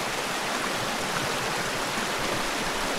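Steady, broadband rush of a creek flowing beside a mountain hiking trail in the South Mountains of North Carolina, a constant close wash of water with no voices.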